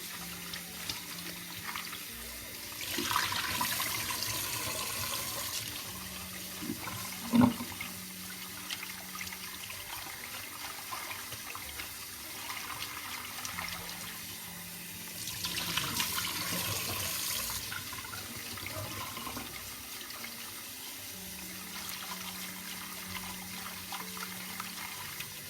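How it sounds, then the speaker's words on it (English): Cold tap water runs and splashes in a sink while soaked black wood ear mushrooms are rinsed, a steady close flow with swells of louder gushing and handling sounds. "Use the cold tap water to rinse it a few times."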